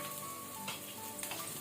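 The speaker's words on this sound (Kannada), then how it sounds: "ಈಗ ನಾವು ಗಾರ್ಲಿಕ್ ಬೆಳ್ಳುಳ್ಳಿ, ಅದರ ಜೊತೆನೆ ಈರುಳ್ಳಿ ಆನಿಯನ್ ಹಾಕೊಳ್ಳುವ. ಇದನ್ನು ಸ್ವಲ್ಪ ನಾವು ಫ್ರೈ ಮಾಡ್ಕೊಳ್ಳುವ" Garlic and onion frying in oil in a pan over medium to high flame, a steady close sizzle throughout with a few brief louder crackles and spatters partway through.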